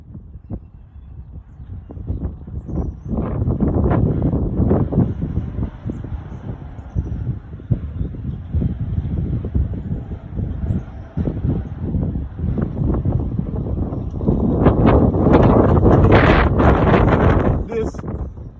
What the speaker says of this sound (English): this is the wind, and it's gusting very strong here.